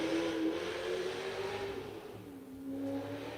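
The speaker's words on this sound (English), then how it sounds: "Someone's getting on it out there on the highway." A car engine on a highway revs and accelerates with a rising mid-pitched whine, heard somewhat at a distance against steady traffic rumble.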